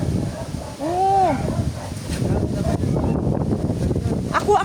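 Strong typhoon wind roars steadily around the microphone, buffeting it in gusts, while a person talks and calls out over the noise.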